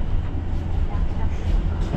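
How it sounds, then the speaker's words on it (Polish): A loud, low rumble of a Koleje Dolnośląskie regional passenger train to Wrocław close by, a continuous heavy drone with faint rattling over it. "Tutaj koleje dolnośląskie do Wrocławia i zaraz będzie odjazd."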